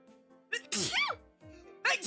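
A single sharp, close sneeze bursts out in the middle of casual conversation, with people talking before and after it.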